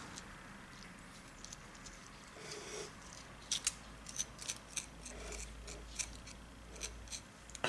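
Knife or scissors cutting through tough brined peppers and scraping out the seeds: a run of sharp, close snips and crunches in an uneven rhythm over a low steady background hum.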